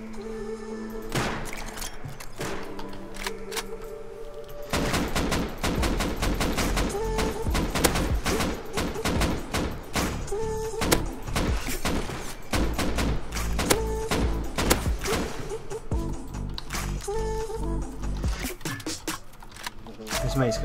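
Rapid gunfire from a Rust survival game raid, with bursts of shots and thuds running almost continuously at close range under excited talk.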